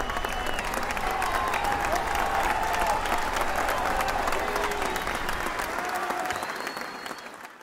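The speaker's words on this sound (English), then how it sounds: "the crowd goes wild" A crowd goes wild, sustained roaring applause and cheering with scattered whistles and shouts over the din, fading out in the final second.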